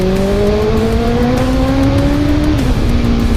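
A Honda CB650 motorcycle engine with a new exhaust and ECU reflash revs up steadily, its pitch climbing and holding loud and close, then dipping slightly near the end; no talking.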